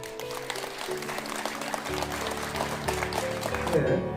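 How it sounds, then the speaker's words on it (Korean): Steady applause from a crowd at an annual general meeting of a Korean restaurant association branch fills the room, continuous and moderately loud, with a faint tonal hum underneath. "감사의 박수를 보내주시기 바랍니다"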